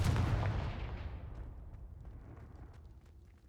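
A Confringo fire-blast spell from the video game Hogwarts Legacy, a loud booming explosion that erupts at once and rumbles away over a few seconds, heard alone with no talking.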